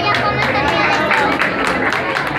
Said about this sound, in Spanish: Que se escuchen esos aplausos porque es toda una vida de trabajo de ser comerciantes en este